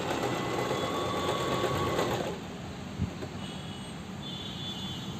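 An electric sewing machine stitches through 12 mm thick leather, giving a loud, continuous motor whir with a rapid needle chatter. The tone steps down slightly partway through and then runs on steadily.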